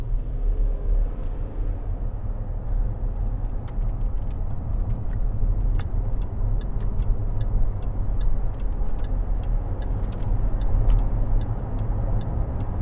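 Range Rover Sport 3.0 SD V6 HSE diesel cruising on a road, with a steady low engine and road rumble throughout and faint light ticking clicks from the cabin, no talking.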